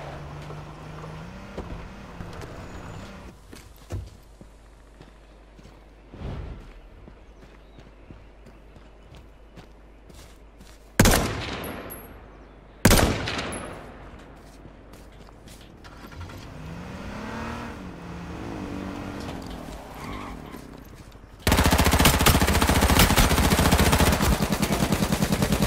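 A vehicle driving in the H1Z1 battle royale game, its engine droning and revving throughout, with two loud, abrupt gunshot bursts midway and a harsh roar toward the end.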